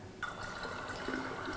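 Water pouring from a tap into a pitcher holding a tea bag for cold-brewed iced tea, a sudden gush that settles into a steady close filling rush.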